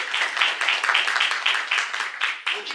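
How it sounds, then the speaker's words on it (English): An audience at the opening session of the Wikimania Hackathon 2025 claps steadily for participants coming forward, a continuous, even patter of many hands at moderate loudness with no talk over it. "let's put our hands together for them as they come out."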